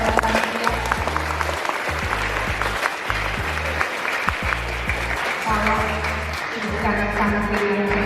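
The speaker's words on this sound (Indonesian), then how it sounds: "Tepuk tangan buat" A crowd applauds the santri at an Islamic boarding school (pesantren) literary community event, clapping filling the whole stretch while a deep repeating tonal backing runs underneath.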